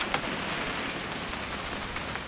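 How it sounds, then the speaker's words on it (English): Steady rain pours down in a video game hunting-trip scene, a dense, even patter of drops on surfaces with no pause across the short stretch. "It's gonna rain the whole weekend, isn't it?"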